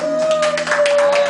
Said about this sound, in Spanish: Eso, aplaudan, pues aplaudan.